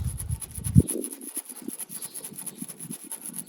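Sandpaper rubs a jet ski battery terminal in quiet, rhythmic rasping strokes that follow a single soft thump, close up with no talking.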